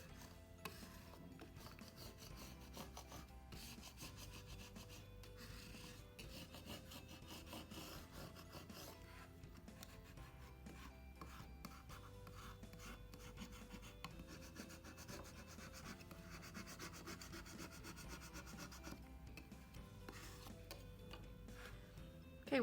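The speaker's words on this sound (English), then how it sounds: "you're going to bring your burnishing tool back out again, and you're just going to flatten that down" A burnishing tool rubs steadily across craft vinyl being flattened for a Cricut project, a quiet, continuous close-up scraping and rasping that runs for the whole stretch with small irregular strokes.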